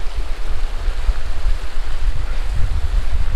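Waterfalls pour along the Jack Mytton Way as a steady, even rush of water with a low rumbling roar, constant and fairly loud and with no voices over it.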